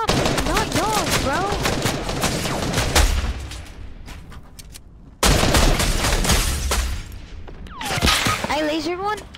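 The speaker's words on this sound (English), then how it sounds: "They're shooting at me, not y'all, bro." Bursts of gunfire in an arena trios battle-royale video game with building, loud and busy with repeated shots alongside game effects, while players talk over it.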